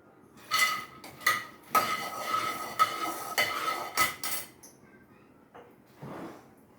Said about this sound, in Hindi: अब ये मखाने भुने जाएंगे।